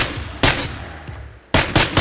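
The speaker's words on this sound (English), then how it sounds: "That was my last shot!" Gunfire in State of Decay 2: a loud broadband shot near the half-second mark, then a quieter stretch, then two more sharp shots close together near the end. No talk.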